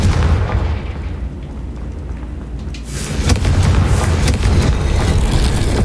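A Confringo blasting spell goes off in Hogwarts Legacy, a loud, dense burst of explosive rumble swelling midway and holding as a sustained roaring blast with crackling debris.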